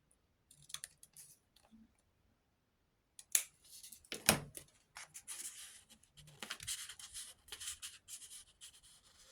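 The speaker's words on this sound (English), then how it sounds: "Just going to snip the corners." Scissors snip the corners off paper during a Christmas craft project: a handful of sharp, quiet cuts and clicks come in irregular bursts, separated by short silences and light rustling.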